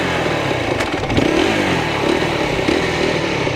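Dirt bike engine running loudly and close as the clutch and throttle are worked, a continuous rough buzzing drone with small surges in revs and some mechanical clatter, heard alone without talk.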